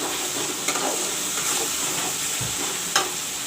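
Masala paste with dhania powder fries and browns in a pan, giving a continuous soft sizzle and hiss, with a couple of sharp stirring clicks from a spoon against the pan.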